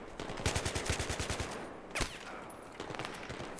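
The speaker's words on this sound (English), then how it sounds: "I'm going to fire a few shots at him to try and suppress him as well before I run." Gunfire in the video game Battlefield 3 fires in a quick rapid burst of shots, followed by a single sharp crack and a few fainter scattered shots against a continuous noisy game background.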